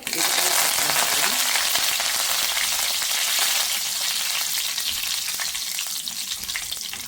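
Mustard seeds splutter and crackle in hot oil for a ridge gourd masala, a dense, steady, close frying hiss lasting throughout with no talking.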